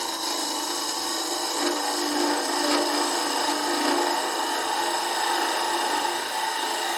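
A hollowing tool cuts into wood on a lathe while turning a wooden scoop, a steady, even rasping hiss that runs without a break and stays close and moderately loud.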